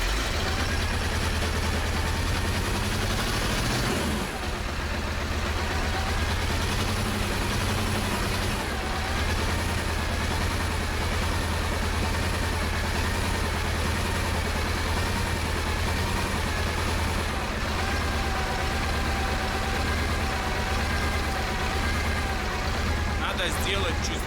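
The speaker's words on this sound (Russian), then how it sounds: "Поэтому сейчас запускаем мотор и накачиваем воздух." A KAZ 4540 truck engine runs at a steady, loud idle while its air system pumps up. The heavy drone continues without a break, and faint voices come and go beneath it.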